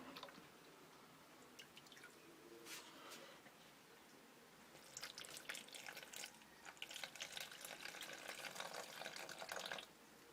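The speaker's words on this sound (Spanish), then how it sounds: "Pues ahora le echo un poquito de agua para que tenga agua." Water poured from a container over live razor clams, starting with soft drips and trickles, then a steadier splashing pour building in the second half, close and quiet.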